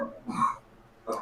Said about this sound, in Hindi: ज्यादा खांसी हो रहा है तुम लोग को,